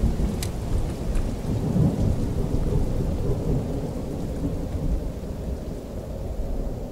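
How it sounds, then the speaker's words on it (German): Heavy rain pours steadily while rolling thunder rumbles loud and low throughout a stormy night in the horror game Welcome to Hanwell, with no voices over it. "Ich erschrecke mich immer so vor diesem Donner."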